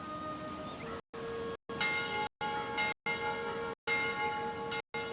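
A ringing bell sounds in repeated strokes, broken by brief silent gaps, with bright sustained tones at a steady moderate level; it is meant as a school bell.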